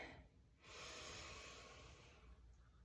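One long, close breath is drawn in through the nose during an arm-windmilling stretch, a broad airy rush that starts after a brief pause and holds for about two seconds before fading.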